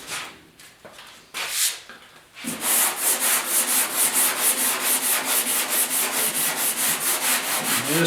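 Hand sanding a fiberglass Porsche 911 decklid coated with guide coat, a few separate scrapes followed by steady, close, rhythmic back-and-forth rasping strokes, with no voices.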